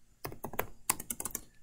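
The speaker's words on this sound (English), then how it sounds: "if I just start typing some things" Typing on a computer keyboard in a short burst of close, crisp key clicks with uneven rhythm, a few louder strikes standing out, and no talking.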